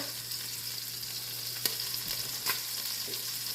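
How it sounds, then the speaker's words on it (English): An egg fries in a pan next to peppers, giving a soft, even sizzle with a couple of faint clicks from a utensil, quiet and close, and no voices. "let that egg go ahead on and fry"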